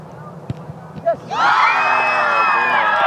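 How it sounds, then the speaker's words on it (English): A school crowd at a Putnam City soccer match erupts in loud, sustained cheering and shouting after their goalie makes a save, following a few scattered shouts nearby. "They're cheering because their goalie saved"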